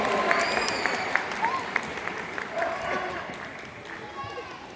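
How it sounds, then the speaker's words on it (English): Spectators applaud a sea lion named Arthur at a safari park show, steady crowd clapping mixed with voices and outdoor bustle. "Give him a big round of applause."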